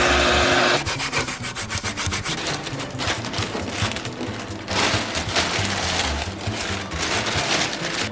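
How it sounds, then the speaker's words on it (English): A Dremel rotary tool whirs with a harsh, continuous abrasive scraping as a wire brush grinds against the transmission tunnel and battery area of a Toyota 86 race car, steady and close, with no voices. "Use this Dremel with a wire brush."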